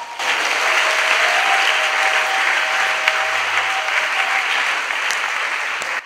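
A church congregation applauds during a French-language service, with loud, dense clapping that holds steady for several seconds before it cuts off.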